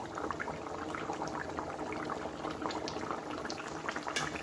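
Bahal fish curry with tamarind and potato bubbling steadily in a pot, a dense, continuous simmering boil with scattered pops, close and fairly loud, with no voices.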